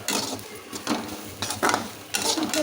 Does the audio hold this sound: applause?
no